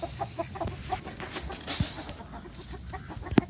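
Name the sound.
chickens clucking on a farm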